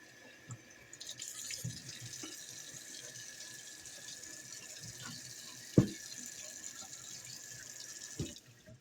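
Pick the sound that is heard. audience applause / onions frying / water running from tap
water running from tap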